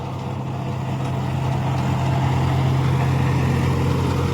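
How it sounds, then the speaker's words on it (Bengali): A John Deere 5050D four-wheel tractor works soil in second gear at about 1600 rpm, its diesel engine droning steadily and loudly throughout with a deep, constant hum. "2 নম্বর লোহে চলছে জন ডিয়ার 50-50D 4 হুইল।"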